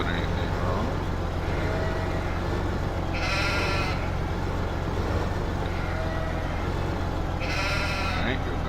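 Sheep bleating in the Ringwoods farming game, two short bleats spaced apart over a steady low hum, with someone talking throughout.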